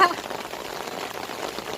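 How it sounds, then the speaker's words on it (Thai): Rain falls steadily at a natural fishing spot, a dense, even hiss of drops pattering on surfaces close by, continuous with no clear gaps. "บรรยากาศตอนนี้นะคะ ฝนตกนะคะ"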